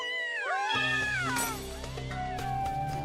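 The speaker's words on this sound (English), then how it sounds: "Sounds like a bunch of angry cats." Angry cat-like yowling from the .hack//G.U. video game: wavering, rising and falling caterwauls in several overlapping voices, loud and continuous, set against game background tones.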